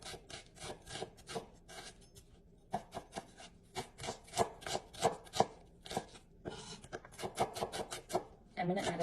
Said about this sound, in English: Next, you're going to need a small white onion, a handful of green chilies based on your spice tolerance, and some curry leaf. Let's chop this up.